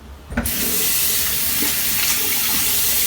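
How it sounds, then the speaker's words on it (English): Lukewarm tap water runs into a small bathroom sink for rinsing a face, a loud, steady rushing stream that starts abruptly after a brief click and continues without a break. "I'm just gonna rinse my face with like lukewarm water"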